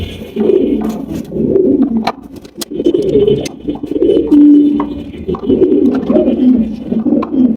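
Pigeons kept at a fancy pigeon breeding loft, including yellow breeding pairs, coo in repeated low murmuring bursts close by, with faint chirps and someone speaking intermittently over them.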